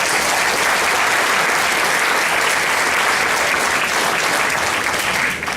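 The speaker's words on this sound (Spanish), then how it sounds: "gracias por el aplauso." A large audience at a talk gives sustained, dense applause that holds loud and even throughout before tapering at the very end.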